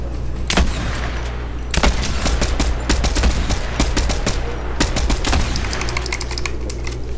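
An explosive repeater rifle fires in a video game, bursts of sharp rapid shots and booming blasts crackling over a dense, constant background of game noise.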